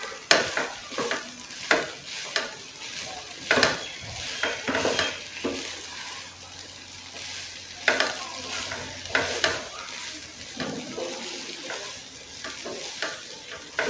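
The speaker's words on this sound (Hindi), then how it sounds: "इनको अच्छे से मिक्स कर देंगे।" Fried sweet potatoes tossed with white sesame seeds are stirred in a pan, giving repeated scraping strokes over a steady soft sizzle, close and moderately quiet with no talking.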